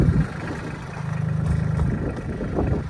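A tractor engine idles nearby, a low steady rumble with a slight rhythmic throb that swells a little toward the end.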